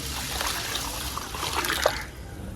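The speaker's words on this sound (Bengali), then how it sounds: "এখন পানি দিয়ে কিছুক্ষণ ভিজিয়ে রাখবো।" Water is poured into fried lentils and rice to soak them for khichuri, a soft close trickle and splash lasting about two seconds before fading to quiet.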